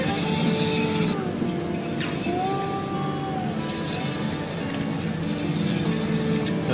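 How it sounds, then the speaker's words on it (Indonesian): An electric mixer kneads bomboloni donut dough with a steady, loud motor drone whose whining pitch rises and falls as the dough turns, continuous throughout with no voices. "Di rumah bisa menggunakan mixer biasa."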